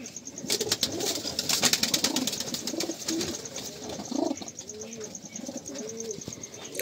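Female pigeons at home coo repeatedly in low, rounded phrases, with chirps and brief wing flutters mixed into a busy, close backdrop.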